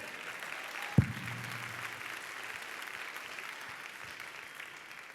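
Congregation applause at a church service, a soft, distant wash of clapping with one sharp thump near the start, fading slowly over five seconds.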